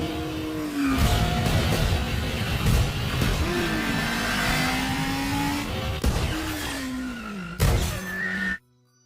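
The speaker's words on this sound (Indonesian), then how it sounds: "Lalu Ethan menyundul mobil mereka dari belakang dan terjadilah aksi kejar-kejaran di tengah kota" Cars roar through a city chase in the film 3 Days to Kill, engines revving loudly and continuously with swooping pitch changes, tire squeals and a sharp impact near the end before the sound cuts off abruptly.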